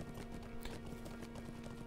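Horse hooves clip-clop in a steady, continuous trot while riding in the fantasy online game Lord of the Rings Online, with a constant low game hum underneath and no talking.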